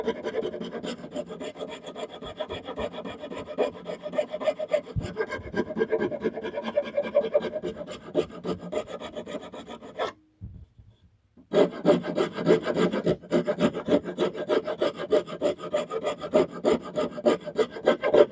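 Rasp filing a taper into an old hickory hatchet handle, close and steady back-and-forth rasping strokes, pausing briefly midway before resuming the same rhythmic scraping.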